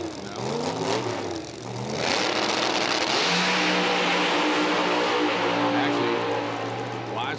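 The Wise guys Corvette drag car's engine refires on the starting line at a PDRA Drag Wars event and settles into a loud, sustained rev, with an announcer talking over the roar.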